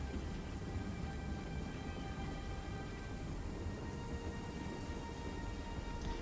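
Steady rain with a low thunder rumble during a battle in the video game Total War: Three Kingdoms, a constant even wash of noise with no talking.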